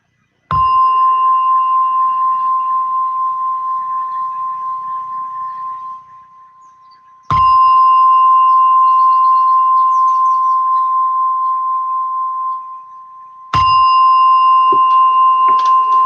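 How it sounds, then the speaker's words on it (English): A meditation gong rings out three times at even spacing, each strike loud and close with a sustained metallic tone that fades slowly before the next hit. "As you hear the gong slowly come out from your practice."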